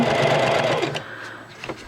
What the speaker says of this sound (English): pull from the back, that way you're not putting stress on your sewing machine. And run that down while stretching.